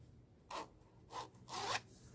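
Zipper on a handmade sewn fabric wallet pulled open and closed three times, short close rasping zips separated by brief pauses in a quiet room.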